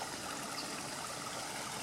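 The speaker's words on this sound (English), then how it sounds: "the water is flowing down" Water runs steadily down a garden brook with ponds and plants nearby, a continuous, even rushing trickle close to the listener with no talking.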